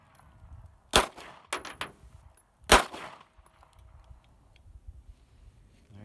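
Two sharp, loud gunshot cracks from a PT92C pistol fired at a green propane tank, with a quicker pair of smaller impacts between them, over quiet outdoor background.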